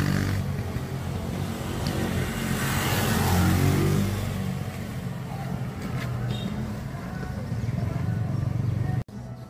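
A police tactical motorcycle engine revs as a loud, broad engine roar that swells and then holds steady among outdoor noise, ending in an abrupt cut.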